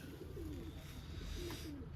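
Pigeons coo softly in a series of low, rolling calls, fairly faint against a steady background hum, with no talking.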